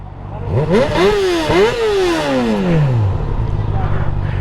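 A motorcycle engine revs up sharply several times, pitch climbing and falling, then settles into a lower rumbling idle close by.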